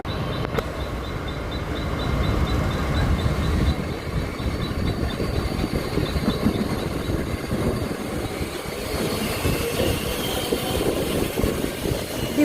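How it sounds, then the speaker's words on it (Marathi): A Mumbai slow local train pulls into Reay Road station, its steady loud rumble and rolling rattle of carriages filling the scene without pause, with a faint high whine running above the continuous low roar. "आणि इकडं आपली ट्रेन आलेली आहे 3 मिनिट्स डिले."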